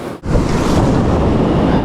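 Ocean surf on a Northern California beach during a receding tide, a steady loud rush of breaking waves with wind noise on the microphone after a brief dip at the start.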